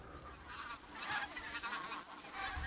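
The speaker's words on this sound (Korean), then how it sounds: "시끄러운 철새들이 분주히 오가는 이곳 수로가" Noisy migratory birds at a waterway, likely geese, honk repeatedly in overlapping calls at moderate distance over a low outdoor background.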